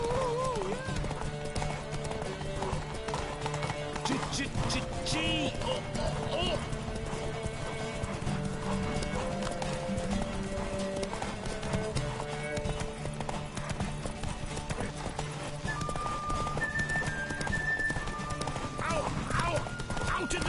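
In The Witcher 3 video game, a horse's hooves clip-clop steadily and quickly throughout, under music, an occasional neigh and speaking voices.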